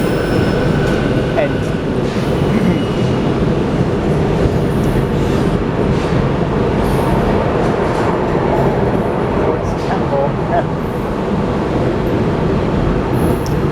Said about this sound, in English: There goes the train I just got off of.